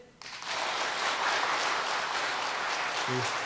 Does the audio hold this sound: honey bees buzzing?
no